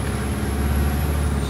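A scaffolding lorry arriving back at its yard gives a loud, sustained hiss of released air brakes over a low engine rumble, close by.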